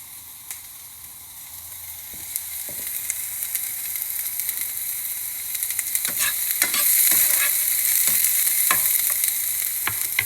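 Salted mackerel frying in a pan, a steady close sizzle with sharp crackles and pops that build louder over the second half, no voices.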